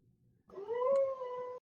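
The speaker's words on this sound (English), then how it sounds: "Dog." A dog howls once in a long, rising, wavering call lasting about a second, moderately loud and alone after a quiet murmur of room noise.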